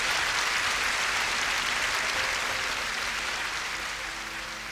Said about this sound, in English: Doesn't Jesus deserve a round of applause,